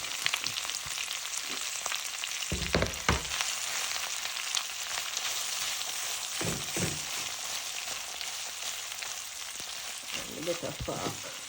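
Canned corned beef sizzles and fries steadily in a pan, with a few louder bursts of crackle and scraping stirs; no voices.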